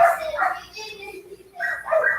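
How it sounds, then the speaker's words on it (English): Several excited dogs barking at home for a returning family member, a few sharp close barks at the start and again near the end, with a whine in between. "They're barking for his attention."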